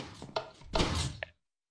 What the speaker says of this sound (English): And I have piston doors.